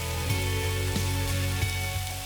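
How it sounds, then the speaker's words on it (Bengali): Chopped onion fries in hot oil in a pan with a continuous sizzle, and a few soft clicks of stirring recur at regular intervals over a steady background hum. "পেঁয়াজটাকেও ভালো লাল লাল করে এটাকে ভেজে নেব একটু।"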